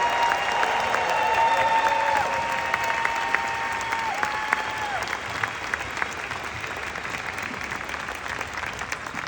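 An audience at a closing speaker event breaks into loud, sustained applause for the event organizers, dense clapping that gradually thins over several seconds.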